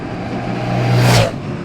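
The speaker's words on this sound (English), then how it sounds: "Shifts gear as well, makes cool noise, happy days." A CFMOTO 800 NK parallel-twin motorcycle engine revs up under load, swelling to a brief loud peak before dropping as a gear change comes, heard close up.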